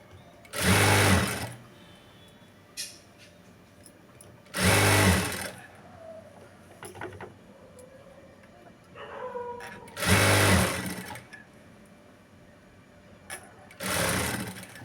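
A sewing machine with a normal presser foot stitches piping onto a blouse in three loud, separate bursts of motor whir, with quiet pauses and small handling clicks between them.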